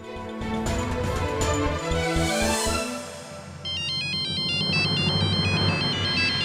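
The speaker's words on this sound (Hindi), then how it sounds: "किसका फोन है जी?" Music plays, then cuts to an electronic phone ringtone repeating its short melodic pattern, loud and close, continuing steadily to the end.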